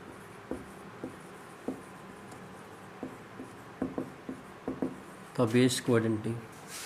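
Chalk or pen taps and scratches on a board in a physics class as a definition is written, irregular short strokes at moderate volume, followed near the end by a brief spoken voice.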